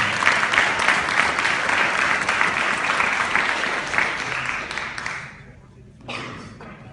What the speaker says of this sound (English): Let's hear one last round of applause for everyone that pitched today